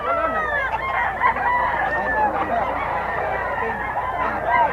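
Gamefowl rooster of a Sweater crossed with Kelso bloodline crowing loudly and repeatedly up close, with other birds clucking and calling around it.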